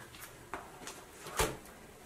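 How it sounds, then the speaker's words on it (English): A drawer on a planner cart slides open with a few soft scraping and clicking sounds, close and fairly quiet, the loudest bump near the end. "Then the second drawer of my planner cart"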